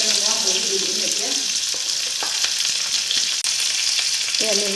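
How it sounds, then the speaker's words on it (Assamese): Onion and chopped chili frying in hot oil for a Maggi masala dish, a steady close crackling sizzle filling the whole stretch, with a few soft clinks of a utensil against the pan. "এতিয়া মই ফ্ৰাই কৰিম।"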